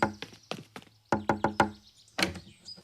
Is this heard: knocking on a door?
yes